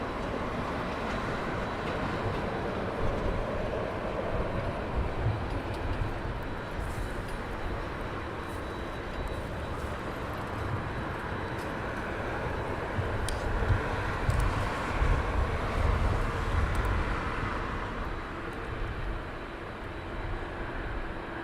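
A Delta airliner taxiing at London Heathrow Airport gives a steady, distant engine rumble and broad whine that runs unbroken through the stretch, with wind noise and no talk over it.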